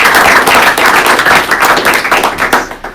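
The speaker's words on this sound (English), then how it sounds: "give a little round of applause for that" An audience gives a round of applause after a talk on impact investing in New Zealand, a dense, steady burst of clapping that fades toward the end.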